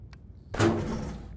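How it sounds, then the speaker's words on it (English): A drawer in the VR game Apex Construct slides open or shut, a single short wooden rasp and thud after a faint click, close and alone. "I like the sound of the drawers opening and closing"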